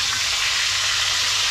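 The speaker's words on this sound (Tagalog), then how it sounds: "Prito tayo ng coral trout." Coral trout frying in a pan gives a loud, steady, close sizzle with continuous hissing and no pauses.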